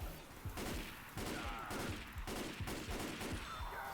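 Gunfire in the video game Left 4 Dead 2: rapid bursts of repeated shots in a quick, uneven rhythm, loud and close, with no talking.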